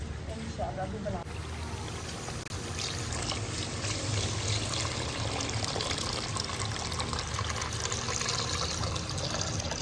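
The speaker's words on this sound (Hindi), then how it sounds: "पानी जो है ऐड हो रहा है।" Water pours steadily into a cooking pot of browned chicken, a continuous rushing trickle that lasts the whole stretch at an even, moderately close level.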